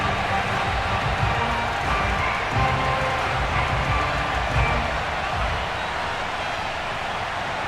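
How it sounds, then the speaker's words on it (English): A packed football stadium crowd at FedEx Field before a Washington versus Dallas game sends up a constant distant roar of cheering, steady and loud throughout, with a commentator talking faintly over it. "this crowd is ready to go"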